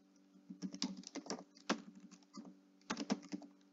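Fingers typing an API key on a computer keyboard, with bursts of quick close keystrokes separated by short pauses, a clear clattering rhythm and no speech.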